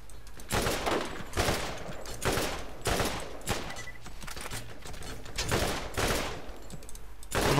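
Borderlands gunfire rattles in repeated loud bursts at a steady, rapid rhythm, close up and continuous, with no talk over it.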